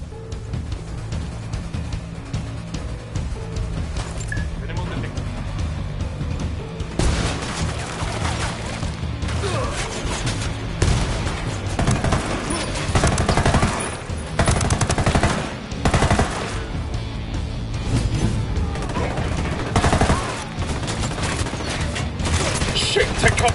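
Sustained firefight in Ghost Recon Wildlands, dense machine-gun and rifle bursts crackling continuously, growing heavier midway, with overlapping shots near and far over ambient battle noise.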